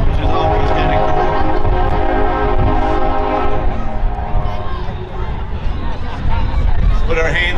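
A parade train rolls past at a St. Patrick's Day parade in Royal Oak, Michigan, with a loud continuous tonal horn and rumbling over crowd noise, close by, while a voice speaks over it.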